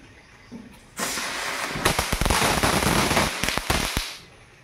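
Firecrackers bursting outdoors during Lakshmi Puja, a loud crackling volley of rapid sharp pops lasting about three seconds before it cuts off.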